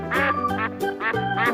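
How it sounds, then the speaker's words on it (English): A duck quacks in a quick, close, loud series of nasal calls, about five quacks in rapid rhythm with no other sounds around them. "Duck, duck,"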